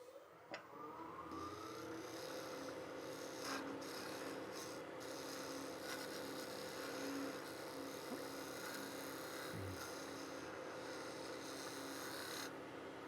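A wood lathe hums steadily while a cutting tool rasps and scrapes against spinning wood, hollowing out a box, with occasional brief knocks and changes in the grinding tone.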